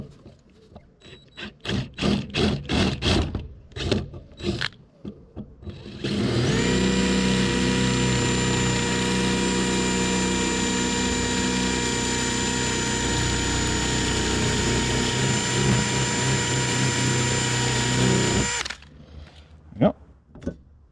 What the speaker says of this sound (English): use this to drill the pilot hole, then it'll be the perfect size.